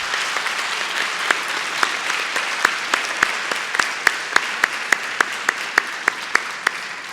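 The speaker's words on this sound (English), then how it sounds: "Please, a big round of applause for these panelists." An audience applauds panelists at a conference, a steady wash of clapping with distinct close hand claps standing out in a regular rhythm.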